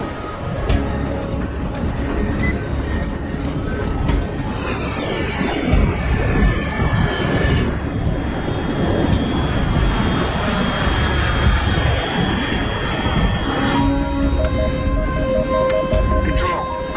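A fast aircraft engine roars overhead in the video game Metal Gear Solid Delta: Snake Eater, a loud, continuous drone with a rising whine, mixed under game dialogue and music.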